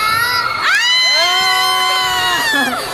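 Children shout and whoop together in a loud, excited burst, voices sliding up and down in pitch, lasting a few seconds.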